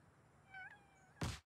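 A short cartoon cat meow from the WarioWare Move It video game, a single rising-falling cry, clear and moderately loud, followed by a brief dull thump.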